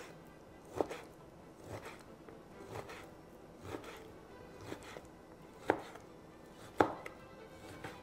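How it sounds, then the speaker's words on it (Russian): A knife cuts meat into thin strips across the grain on a board in steady, evenly spaced strokes, each one a soft thud with a light tap against the wood. "я нарезаю на полоски поперек волокон"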